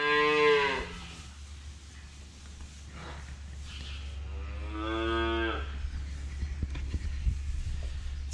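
Newly weaned calves moo loudly at feeding time, one long bellow near the start and another a few seconds later, with softer calls, snorts and shuffling in between over a steady low background hum.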